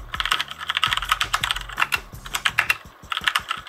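Rapid typing on a Corsair K60 Vengeance mechanical keyboard, dense clicky keystrokes close up in quick uneven bursts with no talking.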